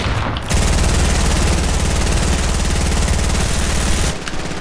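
Fortnite gunfire: a loud, dense, sustained burst of rapid automatic shots lasting about three and a half seconds, starting abruptly and cutting off cleanly, with no talk over it.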